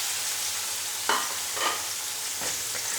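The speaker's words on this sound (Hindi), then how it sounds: "अब इसको फ्राई करेंगे घी के अंदर।" Boneless chicken pieces frying in ghee in a pan, giving a steady close hiss and sizzle with a few brief louder crackles as the meat is stirred.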